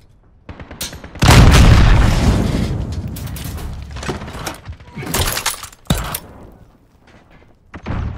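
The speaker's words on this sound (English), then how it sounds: "Allied cruise missile away." A cruise missile explosion in Call of Duty: Modern Warfare hits as a loud, deep boom with a long rumbling tail, followed by scattered gunfire cracks and smaller impacts.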